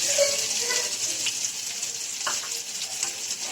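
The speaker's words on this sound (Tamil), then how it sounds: "ஒரு மீடியம் சைஸ் வெங்காயம் நல்லா வதக்கிக்கலாம்" Medium onion sautéing in a pan with popped mustard seeds and curry leaves for a cluster bean poriyal, a steady close sizzle with occasional stirring scrapes throughout.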